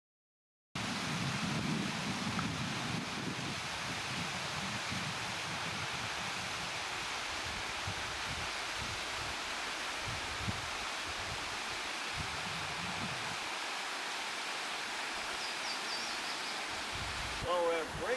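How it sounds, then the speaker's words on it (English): Brink Falls waterfall on the Appalachian Trail in New Jersey, a broad steady roar of falling water heard nearby throughout, with low rumbles and brief handling noise. "Well, we're at Brink Falls waterfall"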